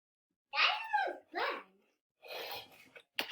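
A dog gives a few short, whiny, yelping calls, close and fairly loud, followed by a rougher breathy burst and a sharp final snap.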